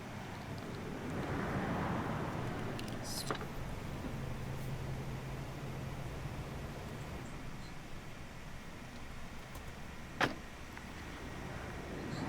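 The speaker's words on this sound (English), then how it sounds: "I figured out a way to hook up a baby speaker to my phone so that I can play some white noise in the background" Steady white noise hisses from a small baby speaker fed by a phone, a continuous even wash of sound at low volume with a couple of brief clicks and no talking.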